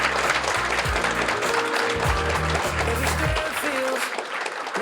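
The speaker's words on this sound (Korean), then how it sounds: "우리 네이빈 분들에게 다시 한번 큰 박수 한번 보내주시면" Audience applause at a rare disease day commemoration ceremony, a steady broadband clatter of many hands sustained throughout, with background music and some voices mixed underneath.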